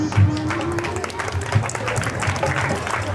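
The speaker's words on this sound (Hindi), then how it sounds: "जोरदार तालियां।" Loud, dense audience applause at a live stage event, steady for about three seconds, with singing voices and music running through it.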